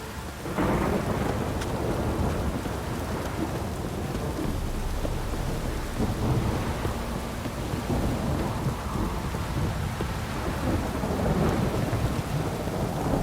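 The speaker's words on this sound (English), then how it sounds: "This downpour's a bastard, it is." Steady heavy rain pours down with rumbling thunder rolling through, a dense continuous storm with no voices, in the video game The Witcher 3.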